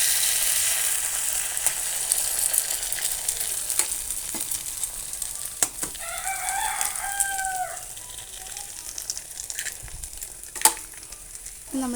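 Two chicken eggs sizzle steadily in an open pan for kothu parotta, a continuous close hiss of frying with faint scraping, and a short rooster-like crow rising briefly in the middle.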